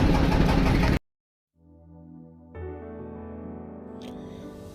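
A small ferry boat carrying a car has its engine run up: after a brief burst of noise and a short silence, a low droning hum rises, then settles into a steadier, louder mechanical drone.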